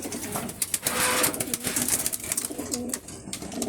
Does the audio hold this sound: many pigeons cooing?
yes